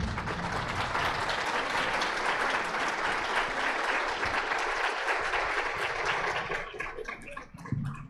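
An audience at a spiritist gathering applauds loudly and steadily for several seconds, the dense clapping thinning out into scattered claps near the end.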